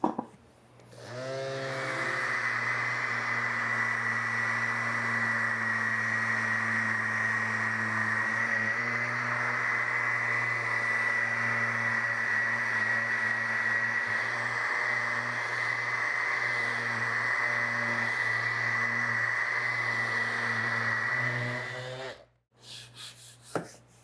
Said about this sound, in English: I am just going to see how far I can get with an orbital sander and some 60 grit sandpaper